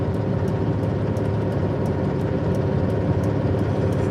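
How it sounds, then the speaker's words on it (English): Loud, steady diesel drone of a truck engine idling or cruising, heard from inside the cab, a constant low rumble with faint periodic ticks on top and no speech. "They'll just sit there and listen to my truck all day."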